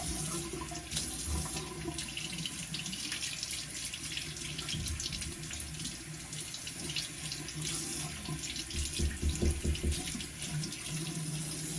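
Warm water runs steadily from a tap into a sink at a workbench before a Rolex watch is cleaned, a continuous close splashing rush with no talk.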